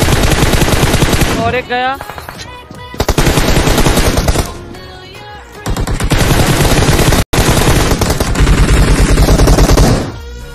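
Automatic weapon fire in PUBG Mobile, loud sustained bursts with brief gaps, while a commentator talks excitedly over the shooting.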